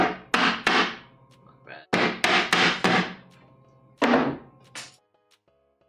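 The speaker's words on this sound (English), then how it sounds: "a hammer to apply force in a somewhat skillful manner" A hammer strikes wood at a miter saw station build in a workshop, with a string of loud, close thunks in uneven bursts and brief pauses, and a voice murmurs briefly.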